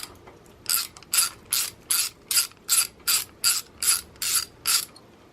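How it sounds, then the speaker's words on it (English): A ratchet spinning off the rocker cover bolts on a Norton Commando motorcycle engine, eleven even, crisp clicking bursts in a steady rhythm, close and alone. "Undo these bolts real quick."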